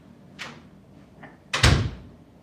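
A door opens at close range with a short creak and rattle, followed by a louder thump as it swings, heard alone with no talking.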